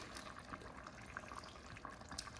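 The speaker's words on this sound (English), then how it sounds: "Just pour it over the meat." A soft, steady pour of thick tomato sauce sliding over meat in a continuous low gurgle, quiet and close with no talking.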